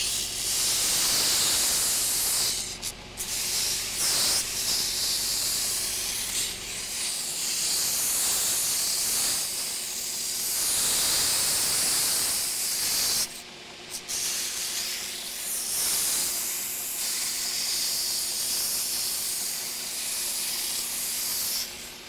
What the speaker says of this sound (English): I'm gonna just do some rough profiling and then I'll switch to a finer grit belt